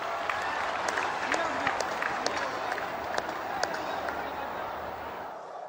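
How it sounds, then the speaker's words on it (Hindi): A large crowd at a political rally in Mangaldoi, Assam applauds continuously, a dense clatter of clapping with a voice over a loudspeaker mixed in. "हो जाए ताली आज आपके नाम पर।"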